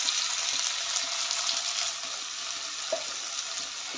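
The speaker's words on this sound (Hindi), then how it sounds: "इस स्टेज पे हम पहले हरी मिर्ची ऐड करेंगे, प्याज ऐड करेंगे और इसे फास्ट की फ्लेम पे हमें 2 से 3 मिनट के लिए भूनना है।" Green chillies and onions sautéing in oil on a high flame for ridge gourd bhaji, making a steady, bright, close frying hiss with a faint stir or two and no speech.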